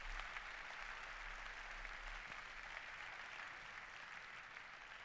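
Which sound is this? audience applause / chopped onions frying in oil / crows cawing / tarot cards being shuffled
audience applause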